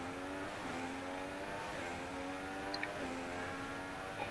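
Formula 1 race car engine in F1 2016 at the Monza Grand Prix, a steady high droning whine with repeated gear-shift dips in pitch, continuous and fairly even in level throughout.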